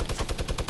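Minigun fire in a video game, a rapid continuous burst of shots at an even, fast rhythm, loud and close, with no talk.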